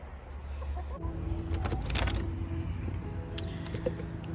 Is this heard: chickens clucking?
yes